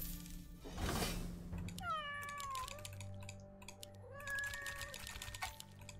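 Cat meows from the video game Legion TD 2, two long rising-falling cries following a sharp burst, over rapid keyboard typing and clicks.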